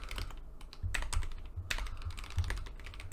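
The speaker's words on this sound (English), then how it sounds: "I'm trying to type and think at the same time" Keys clatter on a computer keyboard in quick irregular bursts of clicks, close and clear over a faint low hum, with no one speaking.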